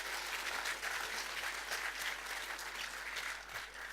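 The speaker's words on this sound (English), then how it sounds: "Big clap to Vietnam" Dense, steady audience applause fills a hall at a Salesian Brothers congress, many hands clapping continuously at a fairly even level from start to finish with no voices standing out.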